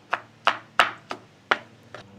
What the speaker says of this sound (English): we're just gonna bring our chopper. We're just gonna start chopping a little bit here.